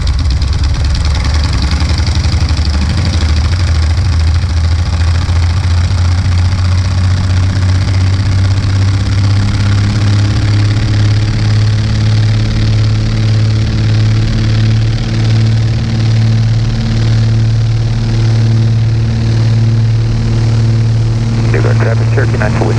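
Twin radial piston engines of a Beech 18 throttling up for takeoff, a loud steady drone with a low rumbling hum that builds and brightens over time, with a voice speaking over it.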